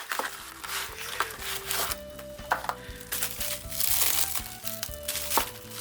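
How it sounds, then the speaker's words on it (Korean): Crinkling plastic and paper packaging as a small BPS K1 neck knife with sheath is unboxed, a continuous close rustle with scattered crisp crackles, quiet and steady throughout. "함께 언박싱 한번 해보도록 하겠습니다."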